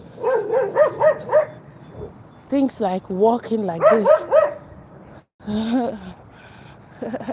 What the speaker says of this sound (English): He's barking at his fellow dog that's in the field.